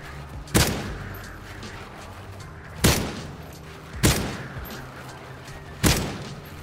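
An ACR thermal rifle fires in a video game: four sharp, loud single shots at uneven intervals, each with a brief decaying tail, over a steady background hum.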